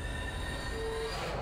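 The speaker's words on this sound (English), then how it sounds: "Well, I hope that's not our train." In the video game Zombie Army 4, train wheels squeal against the rails in a loud, sustained metallic screech over a dense rolling rumble, continuous and close without pause.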